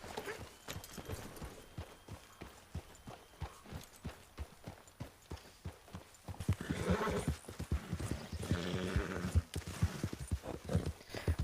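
Horse in Red Dead Redemption 2 with steady clip-clop hoofbeats at a gallop, growing louder and busier midway, with a whinnying neigh over the hooves.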